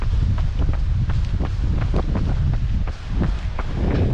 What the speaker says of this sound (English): As you can hear, it's very windy.